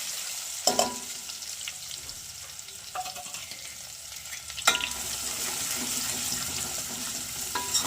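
Onions fry with garlic paste in oil for a bitter gourd curry, a steady close sizzle broken by a few scraping stirs of a spoon in the pan, with no voices.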